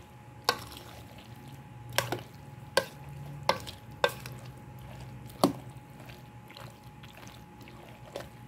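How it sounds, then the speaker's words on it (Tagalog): Spoon stirring macaroni fruit salad in a bowl, giving a series of soft wet clacks and squishes at irregular intervals, close and fairly quiet with a low background hum. "Haluin po natin."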